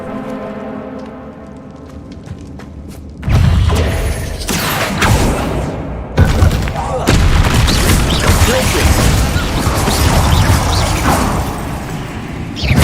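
Bombarda blasting spells go off in Hogwarts Legacy: a sudden loud boom cuts in after a quieter stretch, then a dense roaring burst of explosions and debris that stays loud through the rest.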